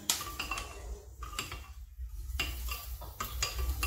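A spoon scrapes and clinks against a pot while Brazilian stroganoff is stirred and mixed, close irregular metallic taps and scrapes with brief pauses between strokes.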